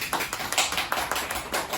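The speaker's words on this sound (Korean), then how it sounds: "전부 다 박수!" A classroom of high school students clap together, a brisk patter of many overlapping hand claps at close range with no voices.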